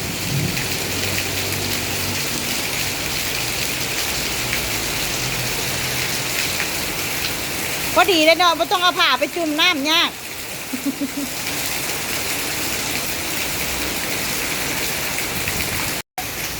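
Steady rain falls throughout a stormy spell in rural Thailand, a dense wash of drops on surfaces with a brief noisy gust partway through, while a person talks over it.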